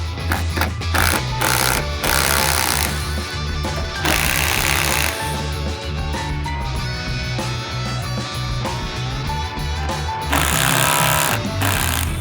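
Power tool removing T40 Torx bolts from a roof rack on a 2007-2016 Toyota FJ Cruiser, a loud, steady, buzzing motor whir that runs nearly the whole time with short surges, close by and with no talking.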